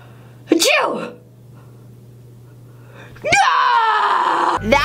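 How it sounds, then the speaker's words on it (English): A single loud, close sneeze bursts out early, followed by a quieter stretch and then a long, strained wailing vocal sound, all from one person. "Achoo!"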